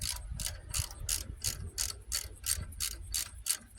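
Rapid ratchet clicking in an even run of about a dozen bursts while a bolt is spun back into the rear hub of a 2006 Dodge Grand Caravan, close and steady with no talk.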